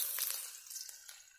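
Potatoes frying in hot oil in a wok give a brief, steady sizzling hiss, close and moderately loud, with a couple of soft stirring scrapes and no talk.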